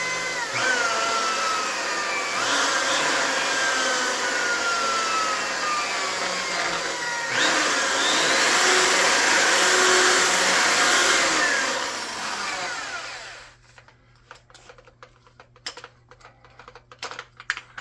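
A polishing machine buffs dry at high speed, a loud steady whirring hum with its pitch drifting, then stopping sharply and leaving faint clicks and handling noises.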